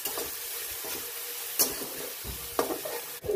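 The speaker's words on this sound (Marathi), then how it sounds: "हिरवी मिरची आणि लसूण चांगला परतून घेऊ आपण. चांगला तेल सुटेपर्यंत परतायचं आहे." Green chili and garlic sauté in hot oil in a pan, giving a steady close sizzle broken by several sharp stirring scrapes and clinks.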